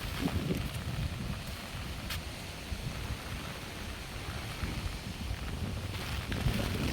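Strong storm wind roars steadily in a broad, rushing hiss, buffeting close to the microphone with occasional gusts, with no voices.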